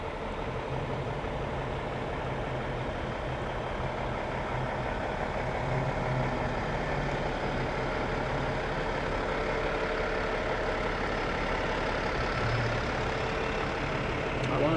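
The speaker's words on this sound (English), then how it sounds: "Altona Fire and Rescue. Their brush truck." Altona Fire and Rescue brush truck rolling in a small-town parade, a steady, low diesel rumble idling nearby for several seconds while onlookers chat over it.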